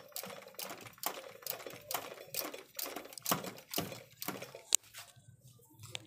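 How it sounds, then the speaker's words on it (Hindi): A repaired motorized sewing machine stitching in short bursts, a rapid mechanical clatter that starts and stops roughly every half second, close and moderately loud, with no talking. "ये वाली देखें जी ये इसकी हम सिलाई लगा रहे हैं।"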